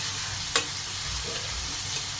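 Steady hiss of a fish head frying in hot oil, with a couple of faint clinks of a utensil stirring in the pan.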